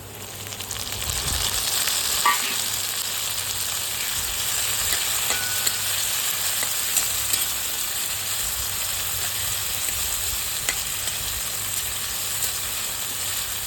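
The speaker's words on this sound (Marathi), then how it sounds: "त्याच्यामध्ये आता आपण टोमॅटो टाकूया" Onion and tomatoes fry in a pan for a spicy dried fish chutney, a steady close sizzle and hiss with occasional faint stirring clicks and no talking.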